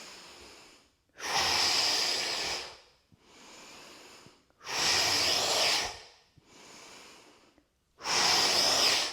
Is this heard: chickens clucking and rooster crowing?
no